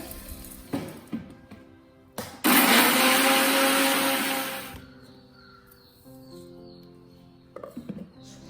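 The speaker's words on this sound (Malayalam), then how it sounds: "അപ്പോൾ ബാക്കിയുള്ളതും കൂടെ ഇതുപോലെ പൊടിച്ചെടുക്കട്ടെ." A kitchen mixer grinder whirs loudly for about two seconds as it grinds rice into powder, then winds down. Handling clatter and scattered knocks come before and after it, and crows caw faintly in the background.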